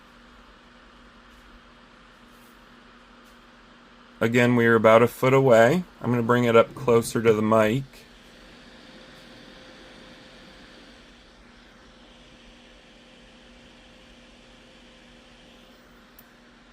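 A ULANZI LM-P40RGB studio light's cooling fan runs at full speed, a faint steady whir that is briefly covered by someone talking, then heard alone and quiet.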